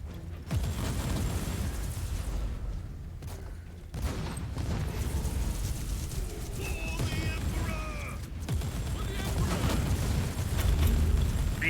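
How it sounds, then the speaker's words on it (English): A big lance cannon fires in a video game, and its booming blasts and bursts rumble through the mix beneath steady talking. "I have a big lance cannon and they do a lot of damage"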